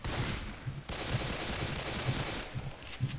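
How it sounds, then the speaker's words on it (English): A silenced submachine gun fires in Left 4 Dead 2 in short, muffled, rapid bursts, moderately loud and spaced a second or so apart, with no talking. "Silent submachine gun. That sounds like fun, except I'm gonna burn all my ammo."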